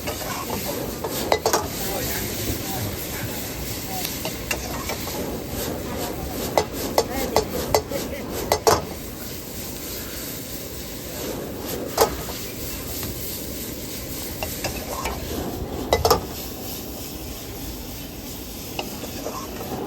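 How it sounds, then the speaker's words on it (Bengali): Street food fries in oil at a stall while it is stirred, giving a constant sizzle and scraping with sharp metallic clinks of utensils against the pan. "এখন হালকা আবার একটু তেল দিয়ে দিচ্ছে মনে হয়"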